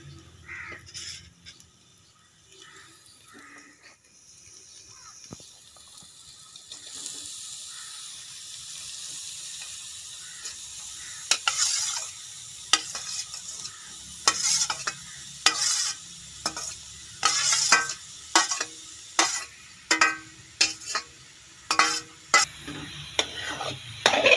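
Grated cauliflower (gobi) is stirred in a pan for a paratha stuffing, with a soft hiss of cooking and then repeated sharp scraping strokes of a spoon against the pan that grow louder and more frequent toward the end.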